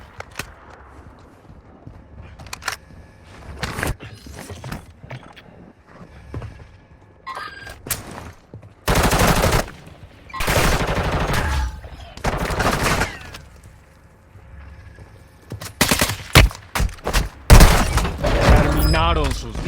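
Automatic fire from a Kastov 545 rifle in a Warzone Mobile battle royale match, heard as loud sustained bursts near the middle and close to the end, with scattered single shots, in-game voice lines and game effects around them.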